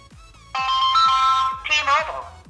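A call to 611 rings on a Doogee Leo DG280 smartphone's loudspeaker as two loud, bright electronic ring bursts. Faint rhythmic background music plays underneath.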